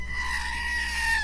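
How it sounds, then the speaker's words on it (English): A screaming goat sound effect: a single sustained, strained bleating scream with a wavering pitch that bends slightly near the end, loud and close, with no talk over it. "need a little screaming goat."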